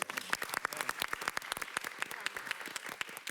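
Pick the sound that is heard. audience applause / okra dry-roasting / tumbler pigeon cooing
audience applause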